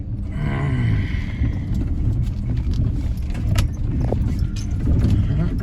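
A ranch truck rolls down a pasture road, with a steady rumbling drive and rattling cab noise that stays close and continuous, plus small clinks and jingles.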